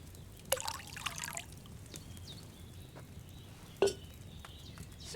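Wine is poured into a cauldron in Kingdom Come Deliverance 2, with a brief liquid splash and trickle at the start and another short splash later over quiet background.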